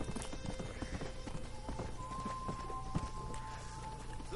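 Steady hoofbeats of a horse clip-clopping at a walk in the Western video game Red Dead Redemption, rhythmic and fairly close, with faint game ambience and occasional tonal hums beneath.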